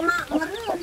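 A chicken gives a few short, loud clucks close by, on a rural village farm where palm sugar is made, brief squawky bursts with no talk in between.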